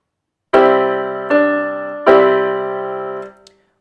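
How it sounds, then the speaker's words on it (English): Piano-like melody of three struck notes demonstrating a lower neighbor tone, stepping down then back up, each note sustained and decaying cleanly, played alone with no talk. "you can have a lower neighbor that goes down and then up"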